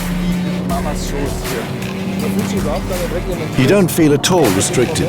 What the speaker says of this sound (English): One lap on the Nürburgring Nordschleife in the new BMW M3 is so fast.